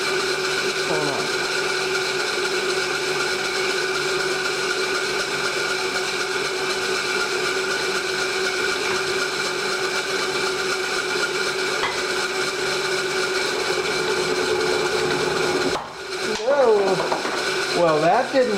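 A metal lathe takes a cut on a steady rest part, removing a couple hundred thousandths per pass: a steady, close machine whine with layered tones, broken near the end by a sudden jolt and a brief voice.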